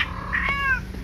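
A cat during mating season gives a single short, rising-then-falling meow, close and clear over a quiet background.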